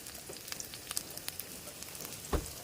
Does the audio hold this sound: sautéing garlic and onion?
yes